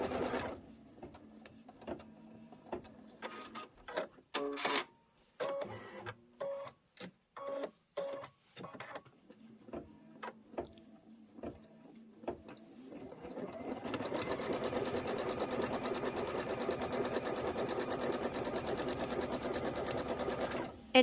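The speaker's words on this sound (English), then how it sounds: "I'm just going to hit start again, let it do the quilting" An embroidery machine quilts the inner borders and flange of a Kimberbell Sweet Land of Liberty pillow, starting with short stop-start bursts of stitching before settling into a loud, steady mechanical whir that runs to the end. No one speaks.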